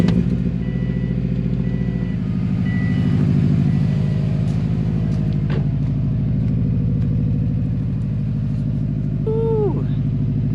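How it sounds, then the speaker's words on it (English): A car engine with no muffler cold-starts and settles into a loud, raspy, pulsing idle that holds steady, with brief faint chirps near the end. "I'm gonna start you guys off with cold start."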